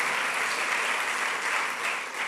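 Church congregation applauds during a Sunday service, a dense, even wash of clapping from many hands, steady and fairly close throughout with no talk over it.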